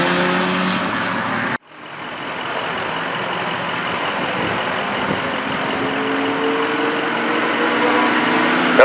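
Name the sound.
vintage race cars at Mid Ohio Sports Car Course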